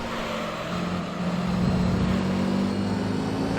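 Race car engine in Gran Turismo 3 on a loose-handling car, a steady sustained drone with a rising note midway, continuous and fairly loud throughout with no talk.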